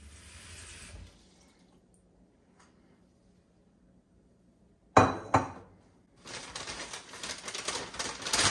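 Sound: containers being filled with water to soak ranunculus and anemone corms

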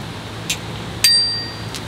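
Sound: bell ringing on Rattan LM750 folding e-bike

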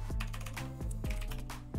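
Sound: typing on a foreign computer keyboard

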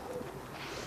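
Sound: pigeon cooing

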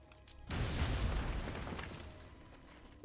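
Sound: explosive gel blowing through a wall in Batman: Arkham Asylum video game

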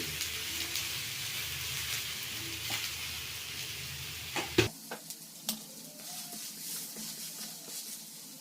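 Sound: onion dosa sizzling on the pan with ghee after flipping

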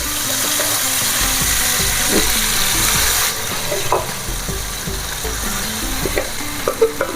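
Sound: chickpeas frying in ghee

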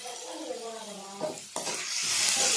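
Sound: onions and tomatoes sautéing and being stirred in a pan

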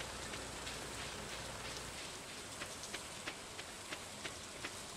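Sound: rain in the video game Stardew Valley

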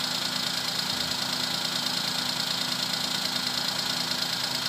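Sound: Suzuki Alto engine idling on cold start

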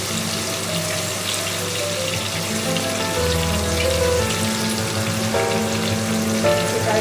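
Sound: water poured into hot pan for cabbage curry, sizzling

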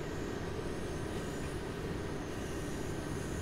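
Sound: BR45 train running in Train Sim World 3 video game

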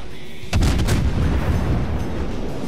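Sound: gunfire in a video game

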